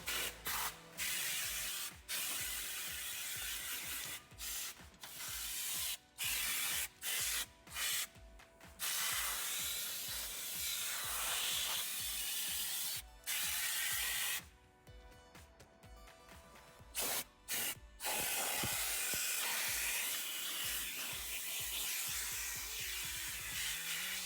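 An air compressor's nozzle blasting air through a car interior after the floor mats are out: loud, continuous hissing rush in long bursts, cut by brief pauses, with some rubbing and mechanical clicks.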